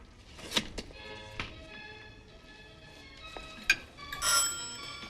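A bell chimes twice at a door where a postman rings, short metallic rings spaced a few seconds apart, with a few soft knocks and thuds in a quiet room between them.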